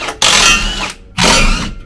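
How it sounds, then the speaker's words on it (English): A socket ratchet with a 15 mm socket works a bolt off the tire carrier of a Hummer H3, making two loud, close bursts of ratcheting, each lasting under a second. "We're going to go to a 15 now and take the 4 bolts off of the tire carrier."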